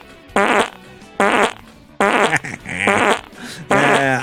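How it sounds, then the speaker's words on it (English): Four loud, breathy fart bursts come one after another with short gaps, each ending abruptly, close up and with no talking. "That right there is some Bob Evans sausage gravy farts."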